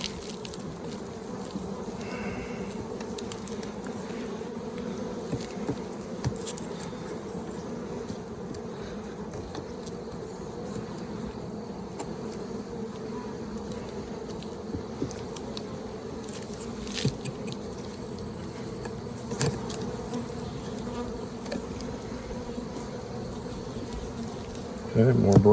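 Honeybees buzz around an open beehive during a spring inspection, a steady droning hum throughout with occasional louder passes of individual bees near the listener and faint handling noises.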